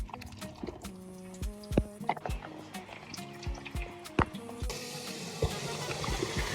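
Beans being rinsed under a running kitchen tap, with a continuous splash of water broken by scattered clatters and knocks of the container, close by and moderately quiet.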